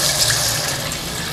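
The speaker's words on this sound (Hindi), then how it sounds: "और अब हम इसमें शामिल करेंगे 2 गिलास पानी" About two glasses of water gush steadily into a pan of chicken fried in ginger, a loud, continuous pouring rush with no voices.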